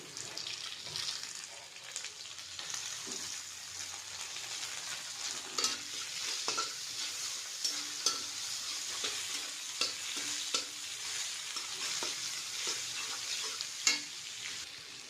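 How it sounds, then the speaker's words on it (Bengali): Onion frying with ginger in a pan, stirred continually, gives a close, steady sizzle with repeated scraping strokes and occasional clatter; no one speaks. "অদ্রকটা ভালোভাবে ফ্রাই করার পরে এবার পেঁয়াজটা দিয়ে দেবো।"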